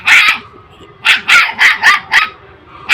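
A dog barks repeatedly up close, about six loud, sharp barks in an uneven rhythm with short pauses between them.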